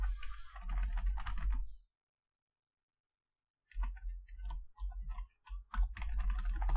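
Rapid typing on a computer keyboard close to the microphone, quick clattering bursts of keystrokes, a near-silent pause of about two seconds, then more uneven clicking bursts.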